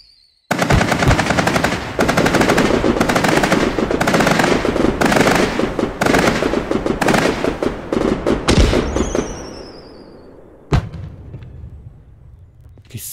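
Raiders fireworks in the game Fireworks Mania give a long, loud, rapid string of cracking bangs. The string runs for about ten seconds, then fades into hissing and scattered pops, with one last sharp crack.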